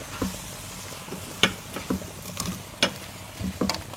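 Chopped apples sizzle and fry in a pan as they cook down into apple sauce, with a steady hiss broken by several sharp clanks and scrapes of stirring.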